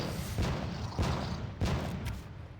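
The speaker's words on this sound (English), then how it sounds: "Listen to those fireworks." Fireworks in the video game RuneScape 3 pop in a series of three or four muffled booms spaced about half a second apart, each with a crackling tail over a hissy background.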